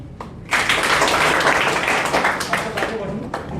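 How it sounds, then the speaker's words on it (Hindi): A crowd claps for a female student at a Civil Rise session in Barauli, Gopalganj, Bihar; dense, steady applause runs for about three seconds while someone talks over it. "इनके लिए एक और ताली"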